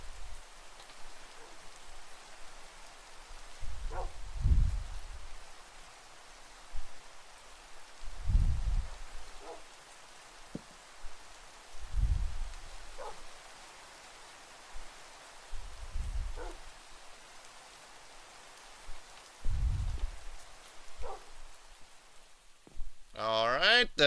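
Rain falls in Minecraft as a soft, steady hiss with scattered faint drops, while low rumbling swells recur every few seconds and a voice briefly sounds near the end.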